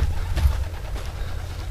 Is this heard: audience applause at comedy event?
no